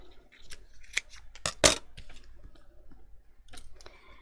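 Scissors snip through paper while a Christmas sentiment block is cut out for card making: several short, sharp cuts close by, with one loud crisp snip in the middle and light clicks between.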